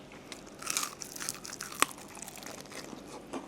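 Crunchy battered fried chicken wing being bitten and chewed up close, soft crackling crunches with a few sharper bites, fairly quiet and without speech.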